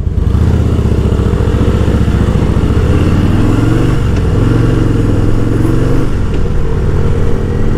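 A motorcycle engine drones steadily and loudly, its pitch shifting slightly as the bike rides along roads near Bangalore; no voices.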